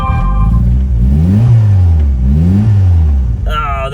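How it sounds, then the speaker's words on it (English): A turbocharged Honda Civic engine with a failed map sensor revs twice in neutral, each rise and fall of pitch loud and close, with a brief higher tone near the end. "let me give her a couple revs."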